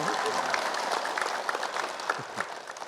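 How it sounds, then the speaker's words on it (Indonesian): An audience at an Islamic religious talk gives a round of applause, a fairly quiet, even spread of clapping from a crowd lasting the whole moment. "Tepuk tangan dong."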